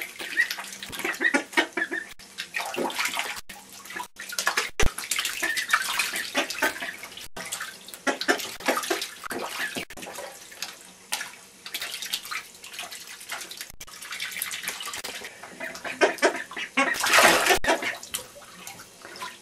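Four ducks paddle and splash in bathtub water with irregular wet slaps and dripping, fairly close, while soft clucking-like calls come through.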